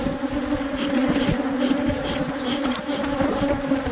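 Dense, steady buzzing of many honey bees at an opened hive during brood chamber work, a close and continuous drone with no voices.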